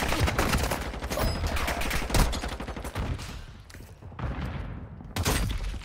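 Gunfire in the mobile shooter Warzone Mobile, with sniping from a tower: dense, loud bursts of rapid shots crackle through most of the stretch, broken by brief lulls, with no talking over them.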